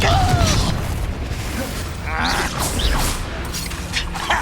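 The Confringo explosion spell from Hogwarts Legacy bursts in game combat with booming blasts, rumbling impacts and crackling magical effects over a dense, busy soundscape, with voices in the fight.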